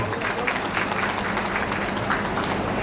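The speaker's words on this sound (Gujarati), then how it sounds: "એકવાર તમારા બધા માટે જોરદાર તાળીઓ." A devotional audience at a Guru Purnima festival gathering claps loudly and continuously, a dense wash of applause filling the whole stretch.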